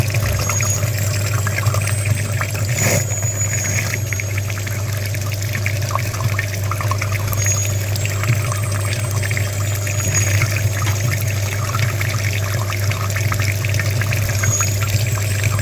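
Water flushes steadily through the heater radiator of a Mitsubishi Lancer X during cooling-system service. It makes a continuous loud rushing, pouring sound with a constant low hum under it and a single brief knock early on.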